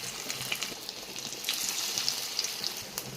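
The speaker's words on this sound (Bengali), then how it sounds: "দেখো কি সুন্দর ভাজা হচ্ছে" Small prawn fritters fry in hot oil, producing a soft, fairly quiet bubbling sizzle with light crackles and pops scattered through the short stretch.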